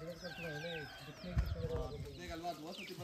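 Hens on a farm with hundreds of free-ranging chickens cluck and call in overlapping bursts, with higher bird chirps mixed in and someone talking over them.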